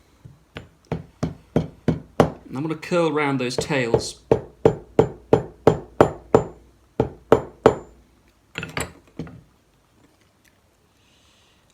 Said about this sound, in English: I'm going to clean that up by hammering it.